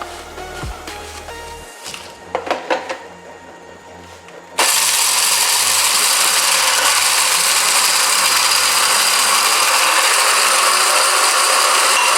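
Roasted whole spices for biryani masala are ground into powder: a few close clicks and clunks as the grinder is set up, then a sudden loud, steady roaring whir that runs on unbroken.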